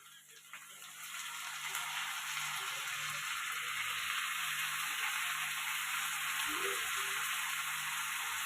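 Amaranth leaves sizzle in a pan frying with shrimp shells, a steady, soft hiss of cooking that rises after the first second and continues evenly throughout.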